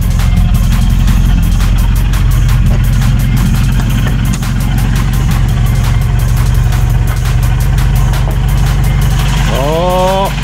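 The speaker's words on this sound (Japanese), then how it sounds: "エンジンかかりました。" A flood-damaged Nissan HP10 Primera Autech car engine idles loudly and close with a steady rumbling, slightly ticking rhythm; a brief rising tone appears near the end.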